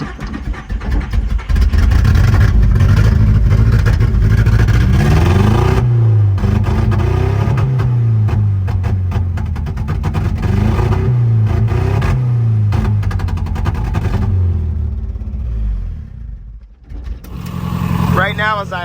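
A Nissan D21 truck engine with a bad misfire runs close by, cranking, catching and revving unevenly with stumbling, rough pulses before it drops off near the end; someone talks briefly over it.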